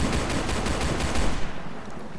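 Rapid video-game gunfire rattles in dense repeated bursts for most of the moment, then tails off toward the end; no talking over it.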